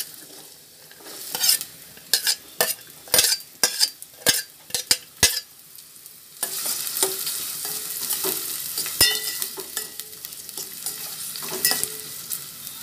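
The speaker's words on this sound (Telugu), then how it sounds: "ఆయిల్ కాగిన తర్వాత ఉల్లిపాయలు వేయించుకుందాం." Onions frying in hot oil for a seerameenu fish curry: a run of sharp stirring scrapes and clatters, then a steady close sizzle that carries on to the end with no talk.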